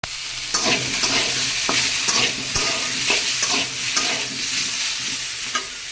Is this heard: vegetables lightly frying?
yes